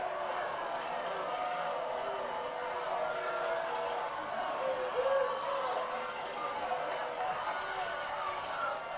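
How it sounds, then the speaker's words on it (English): Crowds from both teams at a high school baseball rivalry game, Hernando Tigers versus Lewisburg Patriots, keep up a continuous distant roar of mixed voices and cheering, with a brief swell midway. "you hear both crowds from both teams"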